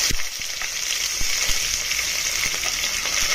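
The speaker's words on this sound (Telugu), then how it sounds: "తరిగిన పచ్చిమిరపకాయలు, ఉల్లిపాయలు వేసేస్తున్నాను." Chopped green chillies and onions fry in hot oil for prawn biryani, a steady dense sizzle with small crackles and pops scattered throughout, close and fairly loud with no talking.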